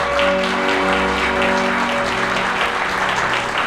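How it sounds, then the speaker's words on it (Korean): Wedding guests applaud as the mothers of both families bow in greeting at a ceremony in a wedding hall, steady crowd clapping over sustained instrumental music for several seconds. "양가 어머님 하객 여러분께 인사 큰 박수 부탁드리겠습니다"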